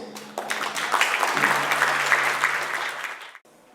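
Warm applause from an audience greeting the president of the Gold Coast Chinese Students and Scholars Association at its founding ceremony: full, even clapping that swells, holds for about three seconds, then stops abruptly.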